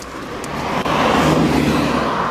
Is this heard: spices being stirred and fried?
no